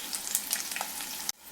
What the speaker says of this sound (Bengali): আরেক দিকটা ভাজা হতে হতে